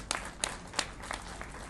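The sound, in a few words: crowd clapping to welcome the Chief Minister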